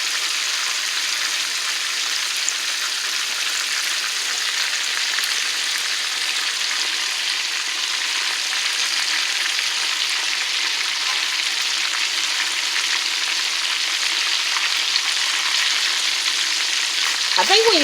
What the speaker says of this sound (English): I think when you cook them like this right here, it takes them longer to brown because you don't have that bread coating on the outside.